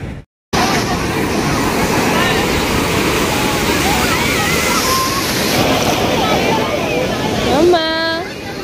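Sea waves roll onto Puri beach in Odisha, a loud, steady roar of surf heard up close, with crowd chatter in the background and a short tonal call just before the end.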